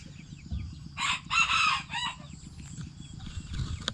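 Bantam chickens of the Benjarong colour are let loose as a rooster crows once, loud and close, a drawn-out broken call in the first half over a low rhythmic mechanical hum and occasional soft clucks.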